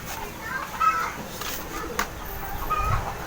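Chickens cluck in a yard as birds are being caught and chased, brief scattered calls mixed with outdoor background noise and some nearby voices.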